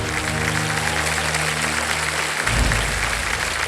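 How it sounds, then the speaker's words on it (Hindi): A game show studio audience gives loud, sustained applause throughout, a steady wash of clapping from many hands. A low hum beneath it stops partway through. "तालियां बज जाए,"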